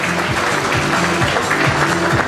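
Audience applause fills the room in a continuous, fairly loud wash of clapping, with music or a voice audible faintly underneath.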